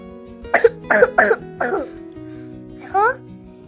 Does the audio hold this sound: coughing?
yes